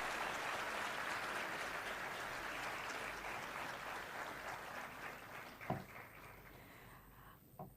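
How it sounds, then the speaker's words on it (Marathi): An audience at a Maharashtra employment fair gives sustained applause for newly appointed candidates, a dense, distant-sounding wash of clapping that thins out toward the end with a few scattered knocks. "एकदा नियुक्त झालेल्या सर्व उमेदवारांसाठी पुन्हा एकदा जोरदार टाळ्या होऊन जाऊ देत"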